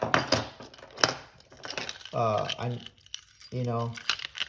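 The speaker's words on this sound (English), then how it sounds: "My keys." Metal keys jingle and clink in bursts, close by, with a person talking between and over the rattling.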